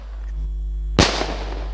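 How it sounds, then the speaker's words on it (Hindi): A green Pentagon sky shot firework launching, one sudden loud whooshing burst after a low steady rumble, close by and followed by a brief hissing tail, with no voices. "हमारा ये स्काई शॉट, जो कि ग्रीन स्काई शॉट है पेंटागन का"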